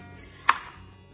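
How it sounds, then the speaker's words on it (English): A single crisp chop as a knife cuts the end off a cucumber on a board, alone in a quiet room. "And then I have my cucumber, which I'm going to cut the ends off of, and I'm going to peel."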